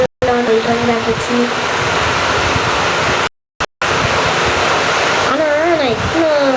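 Rushing flowing water in Minecraft, a loud steady broadband roar broken by two brief dropouts, with some tonal game sounds or a voice near the end.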